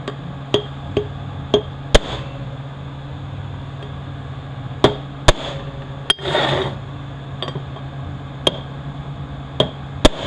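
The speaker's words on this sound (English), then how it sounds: "I'm going to stake the bushing in place." Sharp metal hammer strikes stake a bushing into a Ford 4R75W automatic transmission case during a rebuild, landing as isolated, irregularly spaced hits over a low steady hum, with a brief scraping rustle midway.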